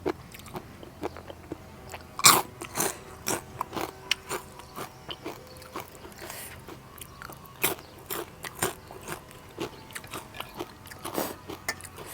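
Spicy Thai squid salad being chewed close up, with loud, repeated crunchy bites and wet mastication in an uneven rhythm, no talking.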